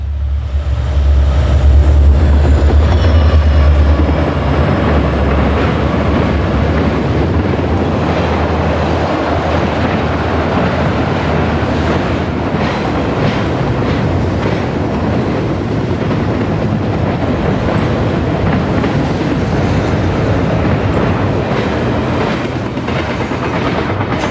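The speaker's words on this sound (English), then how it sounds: "TV3 hustles a long string of trailers and containers past the station" Conrail freight train TV3, a long string of trailers and containers, hustles past a station, a loud steady rumble with rhythmic clatter of wheels and wind buffeting the microphone, continuous throughout with no talk.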